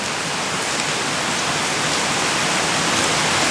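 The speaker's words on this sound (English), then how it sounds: "This rain is like, I mean, I love it." Heavy rain pours down outdoors in a steady, dense roar that stays loud and unbroken throughout, with no voices over it.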